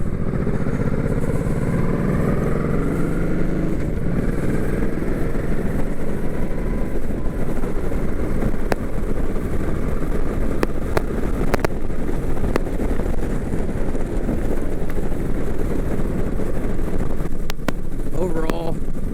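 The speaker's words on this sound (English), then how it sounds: "I love hearing the sound of the exhaust coming through when you're riding it." Honda Shadow 1100 motorcycle rumbles continuously while riding, a deep steady exhaust drone mixed with heavy wind buffeting across the microphone, loud and close throughout.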